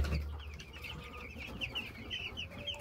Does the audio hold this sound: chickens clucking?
yes